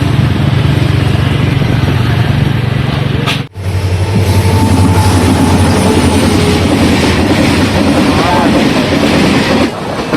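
Train passing a closed railway crossing gate on a road near Sivasagar and Jorhat in Assam, loud and close, with continuous rumbling wheel clatter that briefly dips before carrying on.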